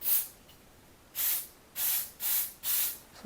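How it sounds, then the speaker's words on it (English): Static Guard aerosol can sprayed in several short bursts, close and loud hissing puffs, one at the start and then four more in a fairly steady rhythm. "So I'm going to spray some more static guard"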